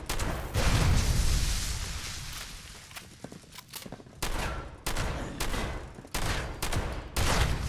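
Shotgun blasts in Fallout 76, a series of sharp reports roughly every half-second to second, moderately loud over quieter game ambience and footsteps.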